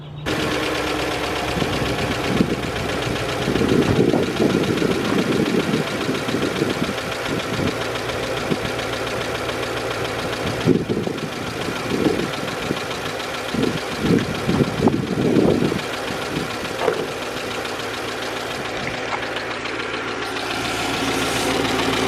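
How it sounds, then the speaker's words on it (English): A VW Touareg TDI diesel engine with 190,000 miles misfires at idle with an uneven, stumbling rhythm, occasional knocks and lurches breaking the steady rumble, recorded close with no talking. "The engine is definitely misfiring."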